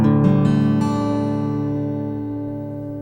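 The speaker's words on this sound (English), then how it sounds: "Now we're in DADGAD. It sounds like this if you strum across the strings." An acoustic guitar in DADGAD open tuning strummed once across all strings, a bright full chord ringing out and slowly decaying, close and alone.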